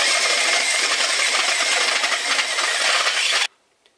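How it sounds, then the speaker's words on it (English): A loud, continuous drilling grind enlarges a hole for an LED headlight housing on a small Honda motorcycle, running for several seconds, then cuts off abruptly into near silence. "So next up we're going to do is drill the hole larger."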